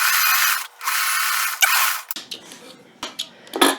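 A sewing machine stitches quilt block pieces for a wonky star block, giving short whirring bursts with brief pauses and small clicks between runs.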